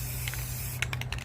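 Black aerosol spray paint hissing onto paper, a steady close spray with a few sharper bursts toward the end over a low background hum.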